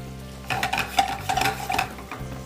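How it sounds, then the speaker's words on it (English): Onions sauteing in a skillet, a soft sizzle under brisk stirring and scraping of a utensil against the pan, with light clinks of cookware, close and steady for a couple of seconds. "So first are our onions. So we want to saute them about a minute or two ahead"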